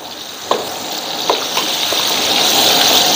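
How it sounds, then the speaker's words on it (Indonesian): Kuey teow noodles frying in plenty of hot oil in a wok give a steady loud sizzle and hiss that builds over a few seconds, with a couple of sharp crackles and pops near the start. "Kita goreng sampai dia garing."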